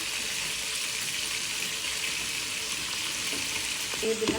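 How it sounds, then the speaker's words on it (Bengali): A pot of chicken and potato curry bubbles and sizzles steadily as ginger-garlic paste goes in, a continuous hissing boil at moderate volume with a faint clink near the end. "এখন বলক চলে আসছে, আদা রসুনটা দিয়ে দিলাম"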